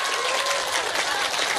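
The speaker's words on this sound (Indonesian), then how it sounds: "Tepuk tangannya buat Fatimah" A brief burst of dense crowd clapping for Fatimah Zahra at a lively community gathering, loud and continuous for the short stretch.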